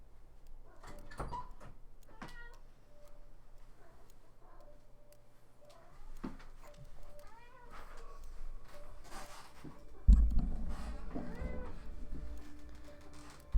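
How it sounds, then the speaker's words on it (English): A cat meows repeatedly at a door indoors, several short separate cries spread across the stretch with quiet gaps, fairly near, followed by a brief louder thump or rustle. "There's a cat meowing at my door."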